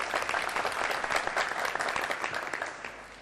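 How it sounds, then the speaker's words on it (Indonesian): A crowd claps steadily at a quiz competition, dense applause at moderate loudness that tapers slightly toward the end. "Tepuk tangan untuk Regu B."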